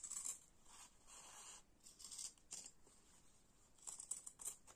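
Scissors snipping through fabric while cutting pieces for a sewn face-mask pouch, a few quiet, close cuts in short bursts with pauses between, no talking.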